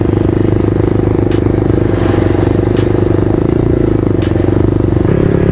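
A Yamaha MT15 motorcycle is ridden at steady speed, its engine droning loud and close throughout with an even hum, light clatter and rushing wind noise.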